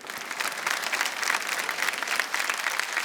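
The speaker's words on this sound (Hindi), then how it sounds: "भाई लेकिन देवो सर के लिए जोरदार तालियां।" A studio audience applauds on a folk singing reality show in India, giving a short burst of even, energetic clapping with no talking over it.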